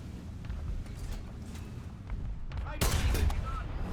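A Leopard 2A4 tank cannon fires in a video game: one loud, sharp boom near the end over a rumbling engine bed, with faint distant shots earlier.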